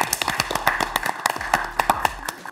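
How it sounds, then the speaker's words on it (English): Applause for a group of footballers, heard as a brief, sparse round of clapping with uneven claps from a small number of people and no talk. "A round of applause for the boys."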